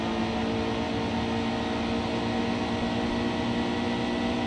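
Xfinity stock car engine at Texas in NASCAR Heat 2, a steady loud high-revving drone held at near-constant pitch throughout, with no talk.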